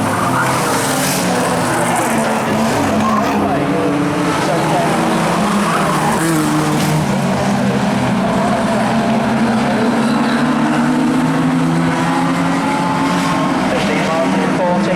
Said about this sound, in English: Here's final time for stock cars.